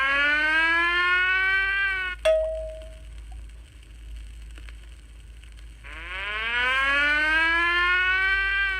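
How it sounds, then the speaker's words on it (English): A fire engine siren under test winds down in a loud harmonic wail, falls quiet for a few seconds, then starts climbing again, heard alone with no voices. "he shined his badge, polished his engine, and tested the fire siren"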